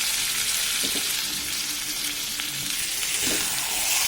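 Meat seasoned with salt and turmeric sautés in a pan with a steady, close sizzle and occasional stirring scrapes, no voices.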